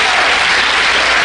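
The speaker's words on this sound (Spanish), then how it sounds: "No, ese aplauso es para Cristo." Applause fills a church during a Holy Week sermon on the Seven Words of Jesus on the Cross, a dense, steady burst of many hands clapping close by, with no talk over it.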